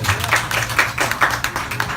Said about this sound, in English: A big round of applause for Father Anton Pascual